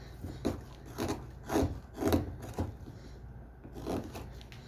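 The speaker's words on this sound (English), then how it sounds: "We'll use a little bit more chisel." A chisel scrapes and shaves a chunk of wood being rounded into a simple shape, rough rasping strokes repeating about every half second at a moderate, close level, then a short pause before another stroke.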